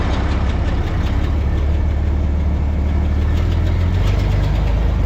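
A compact wheel loader's engine runs steadily at close range while spreading manure in a barn alley, a loud, continuous low diesel drone with faint rhythmic knocking and no talk.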